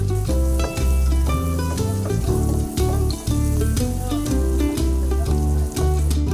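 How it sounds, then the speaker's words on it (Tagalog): Carrot pieces sautéing in melted butter for a Filipino-style pork sweet and sour, with a steady, loud sizzle up close and rhythmic thumps of stirring or tossing in the pan throughout. "unahin natin igisa ang pirasong carrots hanggang lumambot"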